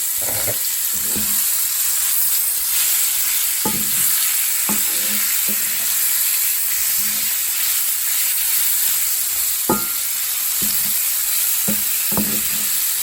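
Beef tips browning in a pan for a crockpot dinner with gravy crackle in a loud, steady sizzle, broken by irregular scrapes and clinks of stirring, close and without speech.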